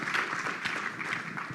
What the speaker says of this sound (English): Yes, big applause for Shrikar.